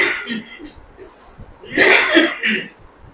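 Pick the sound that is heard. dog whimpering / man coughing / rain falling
man coughing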